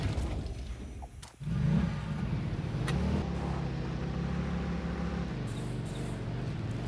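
Explorer vehicle engine in the video game Satisfactory, a steady mid-pitched motor drone that rises slightly after a brief dip and then holds at an even level throughout.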